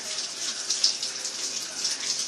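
Water runs steadily from a tap as hands are rinsed under it, a close continuous splashing hiss with small fluctuations, no talk.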